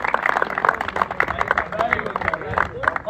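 Spectators at a Pakistani Premier League final ceremony in Logroño applaud the day's best goalkeeper with brisk, sharp claps close by, while a voice talks over the clapping.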